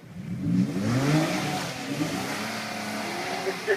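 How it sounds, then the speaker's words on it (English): Porsche cars launch side by side from a standstill, engines revving hard with a brief chirp of rear tire spin, loud and close, then settling into a steady engine drone. "The rear drive car is sitting there spinning its tires a little."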